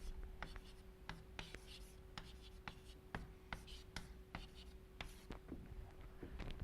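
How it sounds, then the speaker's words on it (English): Chalk tapping and scratching on a board while equations are written during a physics lecture, a steady run of faint clicks over quiet room hum. "So let me just write these things down."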